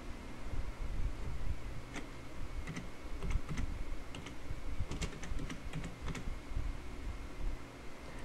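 Steady clicking of keys on a computer keyboard as a blog title is typed, irregular bursts of keystrokes close by over a faint background hiss, with no talking.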